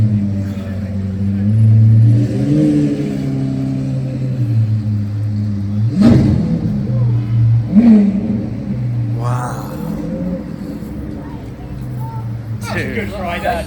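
A Koenigsegg Gemera supercar engine idles with a low rumble and gives a few sharp revs. People talk and exclaim nearby over the engine noise.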